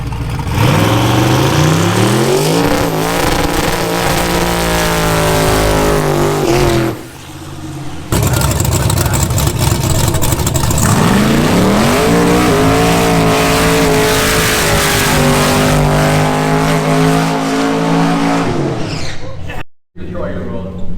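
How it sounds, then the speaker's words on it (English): Car engine revving hard during trailer burnouts at a UK street drag weekend, loud sustained rising and falling revs with a brief drop midway and a short cut near the end, crowd or voices faintly underneath. "Just before we headed home though, it was time for the epic trailer burnouts."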